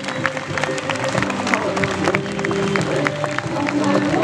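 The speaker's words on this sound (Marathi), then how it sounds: "आमच्या सर्वांकडून टाळ्या वाजवल्या।" An audience applauds and cheers after a stage performance, with steady, dense clapping that carries at a fairly even level throughout.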